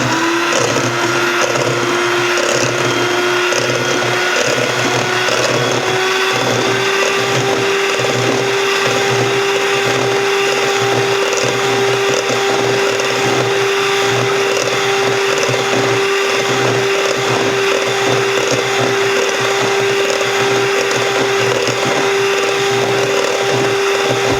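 A blender whips egg and lemon juice into homemade mayonnaise, giving a loud, steady motor whir with a constant hum that runs unbroken throughout.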